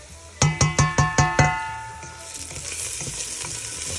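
Garlic frying golden in a pan for Italian red sauce: six evenly spaced ringing metallic taps on the pan open, then a continuous close sizzle and frying crackle carries on alone.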